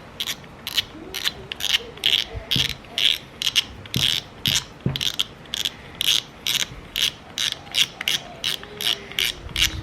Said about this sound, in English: Start off by taking off the drag.